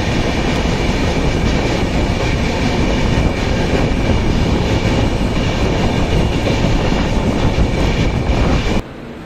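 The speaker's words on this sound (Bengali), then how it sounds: "ট্রেন ছাড়লো পুনে থেকে" Pune–Santragachi Humsafar Express (20821) pulling out of Pune at night, with a steady, loud rumble of rolling wagons and rail noise filling the whole stretch, dropping abruptly just before the end.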